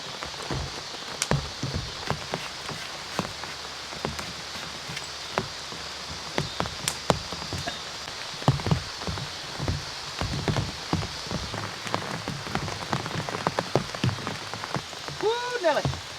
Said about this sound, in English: We are getting rain here